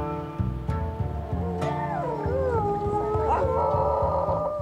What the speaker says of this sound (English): The sound of barking beyond the trees gave us a clue of what we might be getting up to.